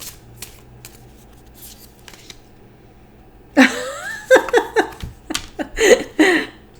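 Quiet riffling of tarot cards at first, then a burst of louder shuffling and flicking in quick uneven bursts, close by.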